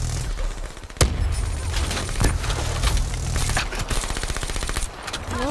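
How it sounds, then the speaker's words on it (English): Rapid automatic gunfire from Call of Duty Black Ops 3: loud, sharp bursts and a steady rattle of shots fill the whole stretch, with a few heavier cracks standing out and no talking. "I'm only shooting random stuff."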